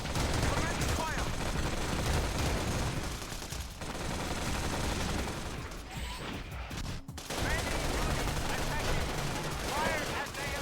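Sustained gunfire and explosions in the Xbox shooter Battlefield 2: Modern Combat, with dense bursts of shots filling the whole stretch, a brief dip near the middle, and faint radio-style voices underneath.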